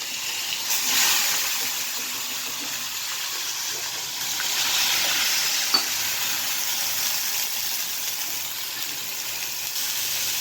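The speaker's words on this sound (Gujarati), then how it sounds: "લાલ મરચાં અને લસણ આ એનો વઘાર કર્યો છે" Hot oil sizzles and hisses steadily as garlic and red chillies fry for a tempering, a crackling fry that swells and eases, with a brief clink partway through.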